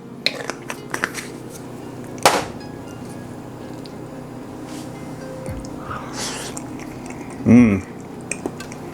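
Tofu scramble being stirred in a pan gives scattered scrapes and clinks of a utensil against the pan, with soft squishy stirring and one louder scrape near the end, fairly close and quiet overall.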